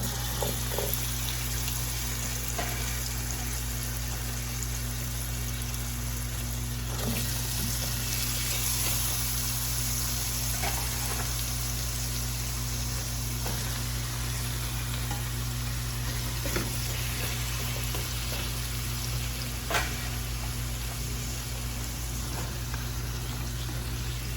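Apples and onions dropped into a hot skillet, a steady close sizzle and frying crackle lasting the whole stretch over a constant low kitchen hum, with occasional stirring clicks.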